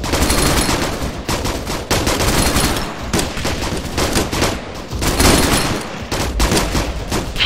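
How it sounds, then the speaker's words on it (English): Rapid gunfire from a section of soldiers firing west in a military exercise, a dense, continuous fusillade of overlapping shots, loud and close, with no pauses for the full stretch. "Section rapid fire facing west, go!"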